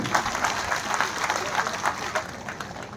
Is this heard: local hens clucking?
no